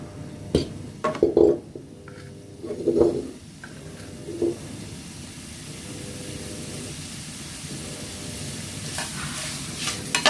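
Pork head bones dry-roasting in a pan with no oil, scraping and clattering under a ladle in a few loud bursts early on, then settling into a continuous soft hiss and sizzle.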